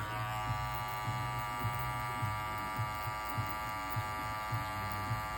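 An ENVY2 electric hair clipper cutting a side taper, a steady close buzzing hum with a faint rhythmic pulsing as it passes repeatedly through hair, alone without talking.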